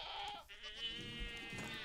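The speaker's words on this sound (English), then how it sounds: "It would have also helped if I spawned more goats." Goats bleat in Minecraft, a wavering, nasal call that rises and falls over a couple of seconds, fairly close and alone without talk.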